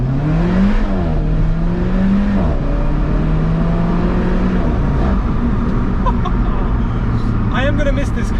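Alfa Romeo 4C sports car with a carbon tub, engine revving and droning with shifting pitch, loud and close, with people talking over it.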